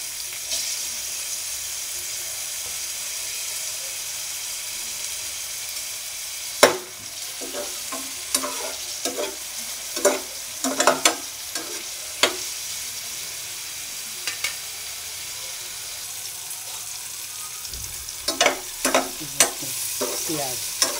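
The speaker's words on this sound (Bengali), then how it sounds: "পেঁয়াজ টমেটোটা ভাজা ভাজা হয়ে গেছে" Chopped onions and tomatoes fry in a pan with a steady sizzle, while a utensil stirs and scrapes through them in irregular clinking bursts that grow busier toward the end. No one speaks.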